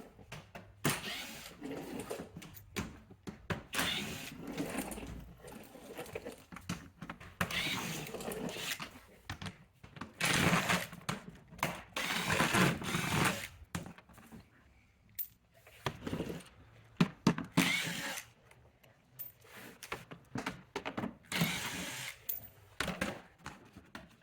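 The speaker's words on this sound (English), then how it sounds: "we're going to remove the size 7mm screws that are holding this part of the bumper to the underskirt there" 7mm screws holding the bumper to the underskirt come out of a 2011–2023 Chrysler 300, with irregular bursts of ratcheting, whirring and clattering tool noise broken by short pauses, close and fairly loud throughout.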